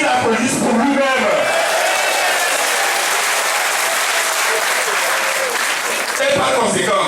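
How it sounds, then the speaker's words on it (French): Loud, dense audience applause at a political gathering, a sustained wash of clapping with some cheering and voices mixed in, fading slightly near the end. "Je voudrais que tout le monde se dise, je me félicite et qu'il applaudisse pour lui-même."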